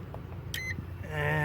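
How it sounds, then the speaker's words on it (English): A Dynatel 2273 fault locator in tracing mode, used for ground fault locating, gives a short high electronic beep followed by a steadier tonal beep, clear and close with no speech. "now we put it on our tracing mode, and you hear that beep."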